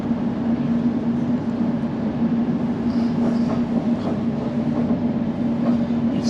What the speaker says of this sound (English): we're currently running on the C2C line, which heads towards Tilbury and Southend